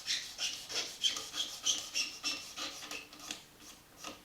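Sanding strokes rub along the grain of a flat classical guitar fretboard during a refurbishment, a close, soft rasping swish repeating back and forth in a steady rhythm of about two strokes per second.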